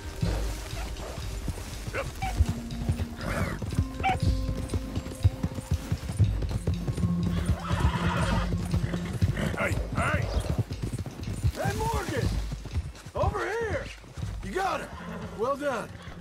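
In Red Dead Redemption 2, a loose stallion gallops with busy hoof clip-clop and whinnying cries under game music and shouted voices, all loud and continuous.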